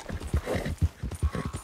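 Horse hooves clip-clop on a road in Red Dead Redemption 2 as a few horses pass, with close, rhythmic thudding beats.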